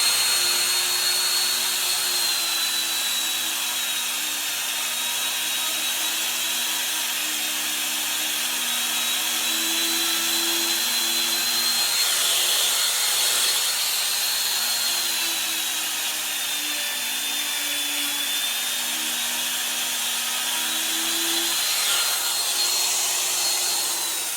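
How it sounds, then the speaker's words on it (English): A handheld router cuts wood freehand with a continuous high whine over a lower droning hum. The pitch dips and wavers slightly as the cut progresses, running steadily and close up throughout, with no voices. "So I'm gonna do some more routing. I'm gonna do it freehand."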